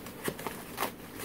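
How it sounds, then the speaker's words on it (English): Packaging foam being broken open by hand, giving three short, faint crunchy snaps spread across a quiet second, with no talking. "So that noise was me just breaking open the foam."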